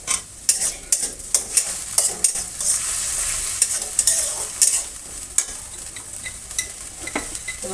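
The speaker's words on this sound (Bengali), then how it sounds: "এবার মশলাটাকে কষিয়ে নেব" Cumin, ginger and garlic spice paste frying in a pan for a katla fish curry, stirred with a run of repeated scraping strokes over a steady close sizzle, no voices.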